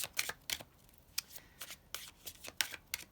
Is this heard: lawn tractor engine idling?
no